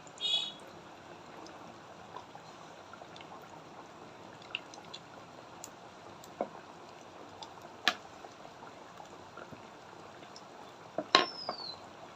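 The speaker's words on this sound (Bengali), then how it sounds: "তেলটা গরম হয়ে গেছে আর একটা একটা কচুরি ভেজে নিব" Pea-stuffed kachori pastries deep-frying in hot oil give a soft, steady bubbling hiss with scattered faint pops and crackles, quiet throughout with no talking.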